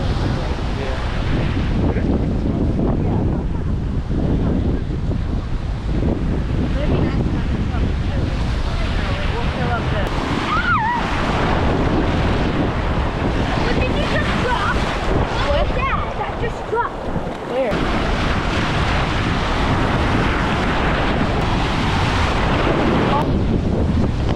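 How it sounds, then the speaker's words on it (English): Wind and breaking surf on an uncrowded Outer Banks beach, a steady broadband roar with gusts buffeting the microphone throughout and faint voices now and then. "we got this whole little section of the beach all to ourselves"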